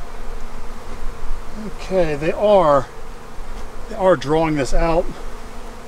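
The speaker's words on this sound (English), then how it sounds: "Boy, there's a lot of bees out front here. They're not too happy." Honey bees buzz around a hive in a constant close, droning hum, while a person talks briefly twice over the swarm.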